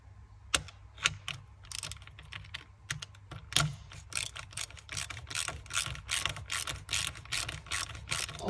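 A ratchet tightens sleeve nuts on a Maserati Mistral during clutch work, with sharp clicking bursts that speed into fast repeated ratcheting, close by and with no talk.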